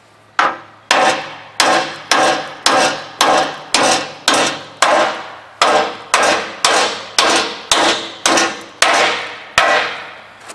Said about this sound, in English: Or just keep whacking it with a hammer.